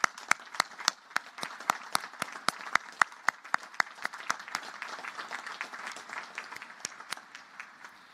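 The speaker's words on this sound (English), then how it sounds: "let's have a big round of applause for Colonel Ripley" Audience at a naval academy graduation ceremony applauding, with distinct sharp claps standing out near the front over a softer spread of crowd clapping that gradually thins and fades.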